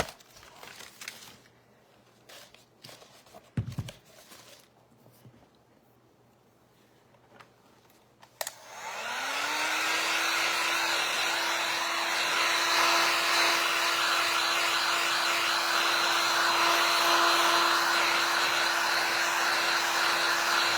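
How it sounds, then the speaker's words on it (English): After some quiet handling noises, a hair dryer switches on and blows steadily and loudly, its motor whine rising and then holding a constant pitch. "I'm going to have to hit it with a hairdryer or the heat gun"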